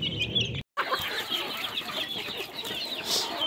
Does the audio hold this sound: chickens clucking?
yes